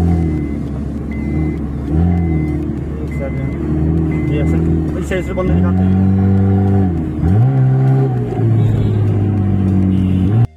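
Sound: car accelerating on a hill road

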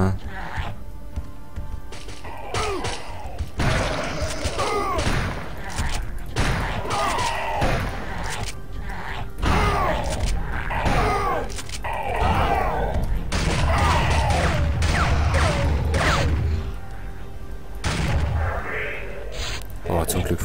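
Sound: rifle gunfire in video game Turok 2 Seeds of Evil

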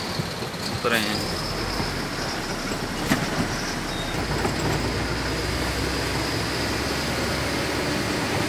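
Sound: train passing

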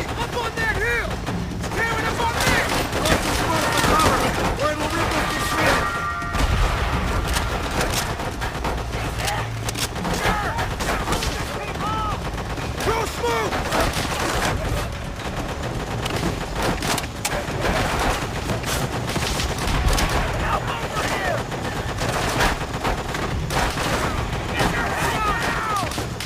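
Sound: machine gun fire in the video game Call of Duty: World at War

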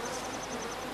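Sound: bees buzzing in video game Don't Starve

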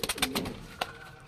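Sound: pigeons cooing in a loft

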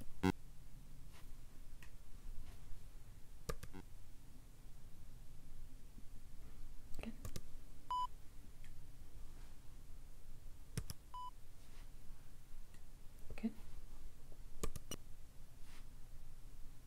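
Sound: hearing test tones at high frequencies

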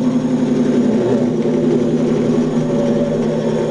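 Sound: engine of a Severn lifeboat model starting

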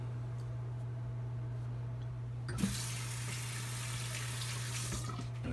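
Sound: tap water running

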